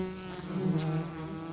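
Wild honey bees buzz around blackberry blossom, a steady close insect drone with a slight swell in the middle, no voices.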